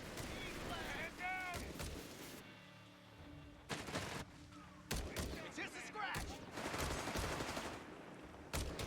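Machine guns and other weapons fire in the World War II strategy game Company of Heroes 3, heard as dense bursts of rapid gunfire and booming impacts with brief lulls, under a commentator's voice.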